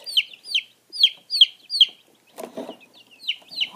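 Newly hatched baby chicks peep in a quick series of high, chirping calls, loud and close, with a short rustle of handling in the middle before the peeping resumes.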